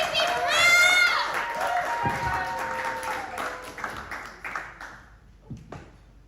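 Comedy club crowd at The Cave Inn, Woolloongabba, clapping and cheering loudly as a host announces the act over it; the applause thins into scattered claps and dies away toward the end.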